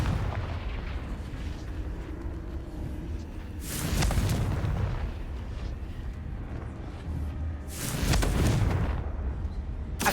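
Confringo blasting spells in the game Hogwarts Legacy, two heavy booming explosions a few seconds apart, each a loud rumbling burst that trails off, with a low background hum between them.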